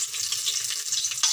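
Bay leaf dropped into hot oil while cooking desi chicken, giving a steady, close frying sizzle with a brief louder crackle burst near the end; no talking.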